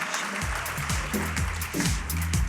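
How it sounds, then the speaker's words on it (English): An audience applauds steadily at a film festival opening awards ceremony, a continuous wash of clapping mixed with sliding musical tones throughout. "Well, keep that applause going"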